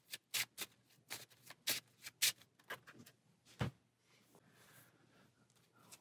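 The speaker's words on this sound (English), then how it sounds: "Give them a shuffle, place them on top of the stack." Playing cards from the Warp's Edge solo board game shuffled by hand: a rapid run of crisp, close riffles and flicks over the first few seconds, one final sharp snap, then quiet handling with no talk.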